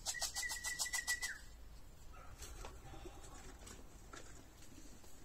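Several rapid wing flaps from a racing pigeon taking off, close by, with a high chirping call, then quieter rustling outdoor ambience.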